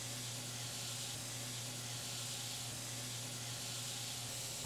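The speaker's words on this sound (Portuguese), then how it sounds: "Primeira coisa, uma manteiguinha, tá? Já foi cortada em cubos, que dela derrete muito mais rápido." Cubed butter melting in a pan already hot over medium heat, giving a steady, soft sizzling hiss that runs unbroken from start to finish, with a low hum beneath and no voices.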